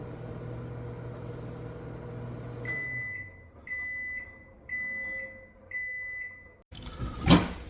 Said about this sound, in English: put it in the microwave for about a minute